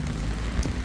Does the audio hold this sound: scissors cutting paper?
no